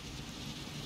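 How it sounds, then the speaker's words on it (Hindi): Steady rain pours down in the video game Far Cry 6, a dense, even hiss with no breaks, fairly quiet and continuous throughout. "बारिश पड़ रही है"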